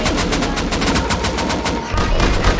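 Rapid automatic turret gunfire in the survival game Rust during a raid defense, a loud sustained burst of fast repeated shots that stutters briefly near the end before resuming.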